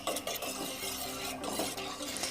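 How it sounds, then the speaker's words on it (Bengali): Milk being stirred into apple tea in a pot, with soft scraping and clinking of a utensil against the pot and light liquid swirling, close and steady with no voices. "দেখুন, এবার আমি এটাকে একটু নাড়াচাড়া করব।"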